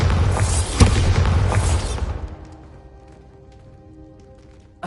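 A Bombarda blast spell erupts in the Hogwarts Legacy wizarding game, a loud booming explosion that rumbles for about two seconds, then fades into a quiet tonal hum.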